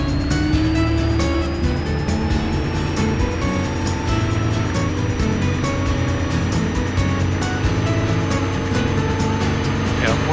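An RV-10 aircraft with an auto-conversion engine revs hard for takeoff, a loud, continuous roar with a slowly rising pitch held throughout, plus buffeting noise.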